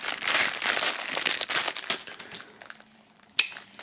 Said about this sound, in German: als allererstes müssen wir mal die einzelnen Inhalte aus der Folie holen